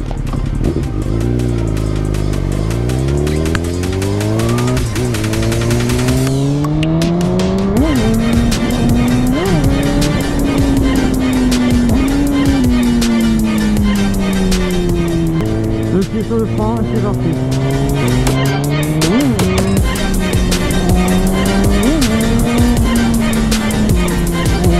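Loud motorcycle ride with a continuous engine roar that rises and falls through revs and gear changes, accompanied by steady wind rush.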